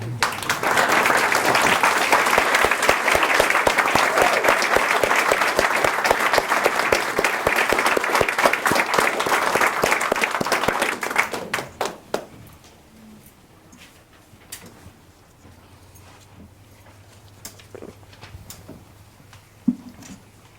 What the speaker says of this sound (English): give a very warm round of applause to Jim Lobel's wife, Dorothy